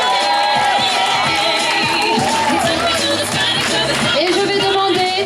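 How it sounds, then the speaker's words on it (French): A festival crowd cheers and claps loudly for pin-up contest candidates, a dense roar of voices, shouts and applause that stays full and close throughout with no pauses. "On les applaudit bien fort,"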